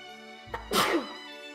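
A single sharp sneeze, close and sudden, with a brief intake of breath just before it, set against a quiet background hum.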